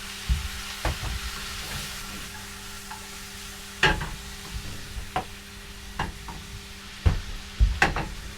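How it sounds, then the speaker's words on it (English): Soft sizzling of roasted lamb and quinoa frying in a pan, punctuated by irregular clanks and scrapes of stirring, with a low steady hum beneath. "So the lamb's back in the frying pan now after taking it out of the oven."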